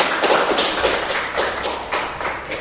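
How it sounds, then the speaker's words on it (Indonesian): Classroom students clapping together for their peers after group presentations, a loud, close patter of many hands with rhythmic surges, without talking. "tepuk tangan untuk kalian semua"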